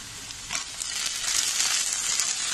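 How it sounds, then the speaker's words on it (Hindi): Chopped tomatoes drop into onions already frying in hot oil in a kadai, giving a steady close sizzle that swells a little as they hit the pan. "अभी मैं इसमें टमाटर ऐड कर दूँगी।"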